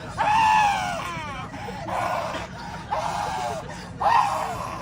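A woman screams and wails in repeated drawn-out cries during a meltdown aboard a Spirit Airlines flight, loud and close, over a steady roar of cabin noise.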